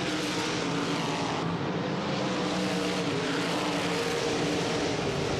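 Sprint cars racing at Manzanita Speedway in a 1997 SCRA event, a loud, continuous engine roar filling the whole stretch with steady broadband noise and no letup.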